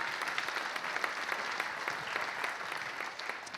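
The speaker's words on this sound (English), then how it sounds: "You can clap for that" Quiet, distant audience clapping fills a few seconds at a Heart of the Artist event with Zach Williams, an even patter of many hands with no voices.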